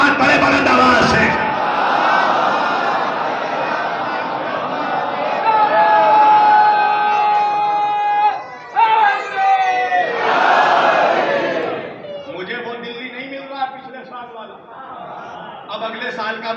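A large crowd loudly chants religious slogans in unison at a Muharram gathering in Delhi, voices rising in repeated surges with a brief pause midway before a quieter second chant.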